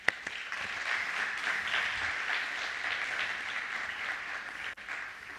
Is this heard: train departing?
no